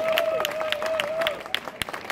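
An audience claps for the sound technician at a concert in Dülken, with steady rhythmic clapping over a sustained tone.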